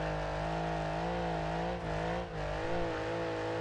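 A PRV V6 engine in a car straining up a hill in BeamNG.drive, overheating and low on power: a loud, steady, droning labour with harmonic bands and small dips in pitch, heard alone.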